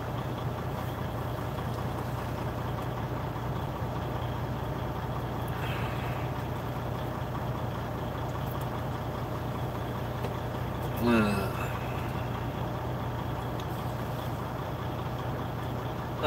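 A truck engine idles with a low, steady hum heard from inside the cab, constant and fairly quiet, with a brief faint rustle or squeak partway through.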